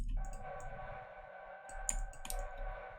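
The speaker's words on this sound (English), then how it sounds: "And another one, which is a siren" A siren-like atmospheric sound effect for an electronic dance-music break, a sustained wavering synthetic wail holding steady over a low rumbling bed, with a few brief bright sweeps near the end; no voices.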